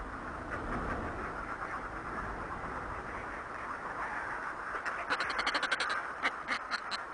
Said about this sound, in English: the fulmars are free to conduct their raucous courtship rituals